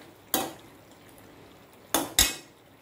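Brinjal curry frying in plenty of oil in a pan, Tamil Nadu style with coriander powder, heard as three sharp metallic scrapes of a spoon against the pan over a quiet low hiss, with no talk.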